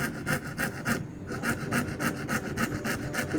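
Steady back-and-forth strokes of a hand saw cutting through a wooden block, rhythmic and close, with a brief pause partway through.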